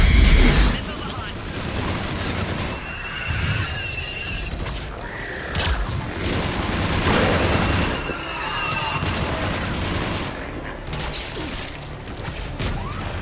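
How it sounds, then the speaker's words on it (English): A volley of missiles launches during a Mass Effect 3 temple assault, sounding as rapid, rattling bursts of fire amid constant loud combat noise, with a voice speaking over the barrage. "Missiles away."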